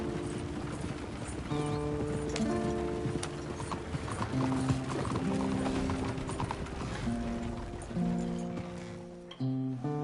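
Hooves of a horse-drawn wagon clip-clopping steadily in Red Dead Redemption II, a continuous close rhythm with creaking wheels and background music underneath.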